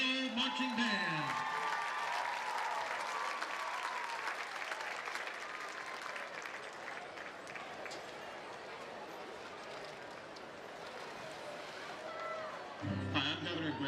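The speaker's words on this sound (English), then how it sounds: "please give one more round of applause for the Denison High School Touch of Gold Marching Band." A stadium crowd at a high school football game applauds the Denison High School Touch of Gold Marching Band, a dense, steady roar of clapping sustained for several seconds, with brief voices at the very start and end.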